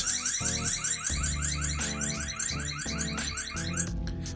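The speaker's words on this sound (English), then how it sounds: "But it is not a very loud alarm." An electronic alarm from a Eufy P24 indoor security camera warbles in a rapid repeating pattern of rising tones, steady and moderately loud, cutting off just before the end.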